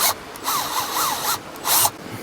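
A drill bores a pilot hole through plastic into wood at a boondocking campsite, giving a few short bursts of whirring with a wavering pitch, separated by brief pauses and light rubbing.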